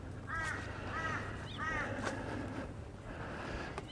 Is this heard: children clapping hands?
no